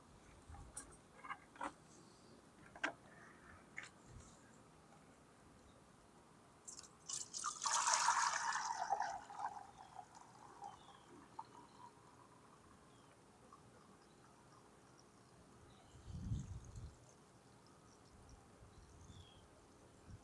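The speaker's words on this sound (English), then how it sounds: "And then I will pour off the dirty water." Dirty water poured off the top of a container during silver recovery from tantalum capacitors, a short gushing pour in the middle of otherwise quiet drips and small sounds, with a brief splash later.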